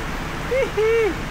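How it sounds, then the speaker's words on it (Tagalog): Steady hiss of heavy rain pouring continuously in New Zealand, with two short tonal sounds rising briefly above it. "Lakas ng ulan dito."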